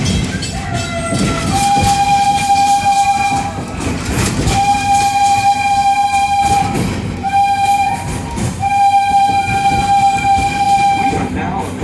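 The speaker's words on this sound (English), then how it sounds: "We are now approaching the Farabe train station." Wildlife Express train at Animal Kingdom pulling into a station, loud rumbling rail noise with clacking wheels and a whistle sounding in repeated long blasts, separated by short pauses.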